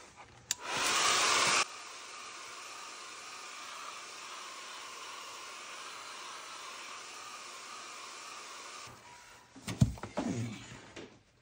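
A hair dryer blows steadily on mixed media collage paper, starting with a loud close burst, then running at a steady level for several seconds before clicking off, followed by brief handling knocks.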